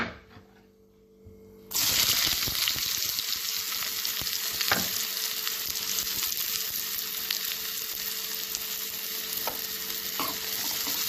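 Chopped onion and green chillies hit hot oil in a kadai, a quiet moment bursting into a loud, dense sizzle that stays steady, with a few spatula scrapes as it is stirred and no talking.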